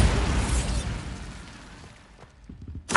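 A Bombarda spell explosion in Hogwarts Legacy: a loud burst that decays into a fading rumble with scattered debris, then a sharp crack at the end.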